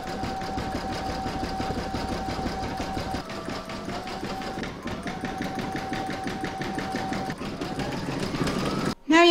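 An embroidery sewing machine runs a satin stitch on an in-the-hoop mandala placemat, a steady rapid needle chatter with a droning motor hum that shifts pitch a few times before stopping near the end.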